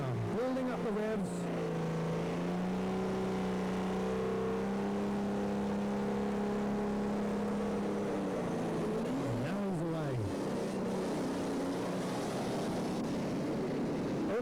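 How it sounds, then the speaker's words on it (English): A Mega Power pulling tractor at a 1997 European tractor pulling event in Windenhof, France, builds up its revs with a loud sustained engine drone, then rising and falling revs, heard at a distance under commentary. "This is Mega Power building up the revs."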